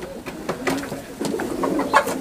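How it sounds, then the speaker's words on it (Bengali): A female golden pigeon gives low, soft coos in a few short phrases, close and fairly clear, with light rustling between calls. "এটা গোল্ডেন কবুতর, মাশাল্লাহ। এটা মাদি কবুতর"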